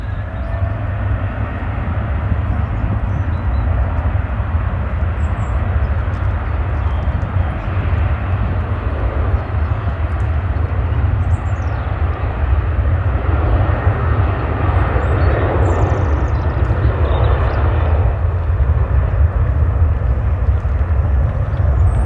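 A Ryanair airliner powers up for takeoff on runway 05 left at Manchester Airport, a loud continuous engine roar with deep rumble that swells and holds steady for over twenty seconds, heard from nearby without talk.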